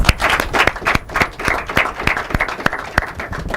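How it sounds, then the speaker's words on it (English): An audience at an inter-collegiate debate competition claps warmly, a dense, close round of applause with sharp individual claps throughout. "they're very deserving of another warm round of applause"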